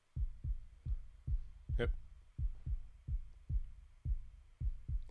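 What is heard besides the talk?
kick drum sample sounding like a heartbeat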